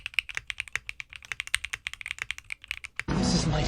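A yellow Neo65 aluminum mechanical keyboard by QWERTY Keys with a gold back plate clacks under fast, even typing, crisp and close, before a burst of loud broadband noise cuts in at the end.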